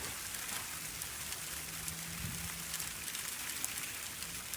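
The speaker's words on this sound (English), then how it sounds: "we still got plenty of sleet coming down" Sleet falling and bouncing on a snowy winter road, a steady dense hiss of pellets pattering close by without pause, with a faint low hum underneath and no talking.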